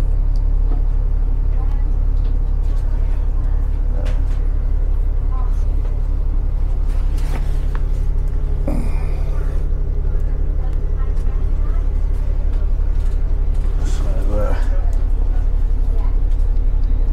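Ride inside an X19 bus between Redditch and Stratford-upon-Avon: constant loud low engine drone and road rumble with occasional rattles and brief clunks, and a person talking now and then over it.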